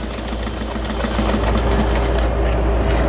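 A sewing machine stitches a ruffle into a chicken potholder with a continuous, even mechanical whir and rapid rhythmic clatter. Low, indistinct talk may sit faintly underneath.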